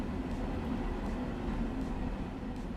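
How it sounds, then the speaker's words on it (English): A CSX freight train rolls past in the Train Sim World 4 railway simulator, giving a steady low rumble with a faint continuous hum throughout, no talking over it. "sometimes a freight train"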